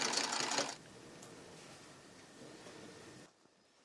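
A sewing machine runs briefly while stitching a summer dress, a loud mechanical whirr in the first moment before dropping to a quiet, steady hum that fades out near the end.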